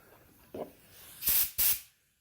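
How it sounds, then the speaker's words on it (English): Two loud, hissing bursts of compressed air, each about a quarter second, blow the pistons out of a front brake caliper on a 1974 Alfa Romeo, with a short softer puff before them and quiet between. "the pistons on the front came out really easily, and I use compressed air"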